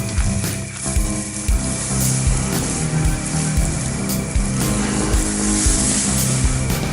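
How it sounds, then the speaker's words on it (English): Ham steaks, just flipped, sizzle steadily in a pan at a state park campsite, a loud continuous frying hiss with crackles throughout. "There's our ham steaks. That's the side that's been cooked. We just flipped them."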